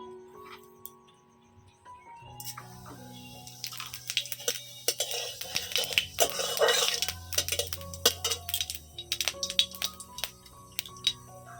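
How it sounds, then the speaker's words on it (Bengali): Mustard oil and fennel seeds going into a hot wok, the oil and seeds crackling in a burst of close, dense sizzling with scattered sharp pops and faint metallic clinks of utensils, no talk over it. "কড়া গরম হয়ে গেছে কড়াতে দিচ্ছি সর্ষের তেল দিয়ে দিচ্ছি সামান্য কটা মৌরি ফোড়নে"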